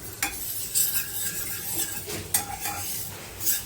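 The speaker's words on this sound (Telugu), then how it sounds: "ఇవి కొంచెం లైట్గా చిటపటలాడేటట్టు వేయించాలి" Fenugreek and mustard seeds dry roasting in a pan for pickle, with a light sizzle, faint crackles and repeated spoon scrapes and clinks against the metal, close up, no voices.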